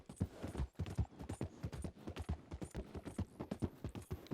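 Horse hooves clip-clop in a steady, brisk walking rhythm on a ridden horse in the western game Red Dead Online, each hoof strike sharp and close with no voices over them.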